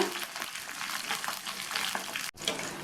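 Green chillies and ginger sautéing in oil for a ginger-tomato chutney, a close, continuous frying crackle with light stirring, cut by a brief dropout near the end.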